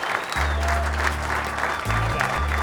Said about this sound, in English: Please give an enormous round of applause.